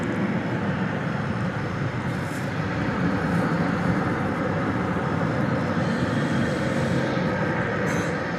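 American Airlines Boeing 737-800 arriving at DFW airport after dark, a steady, broad jet roar that holds loud and even throughout with no pauses or talk.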